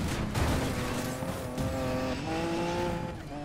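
A Lamborghini Diablo SV in the racing game Need for Speed Payback crashes during a long race, with engine tones shifting pitch over tyre squeal and a rough scraping impact, all loud and close.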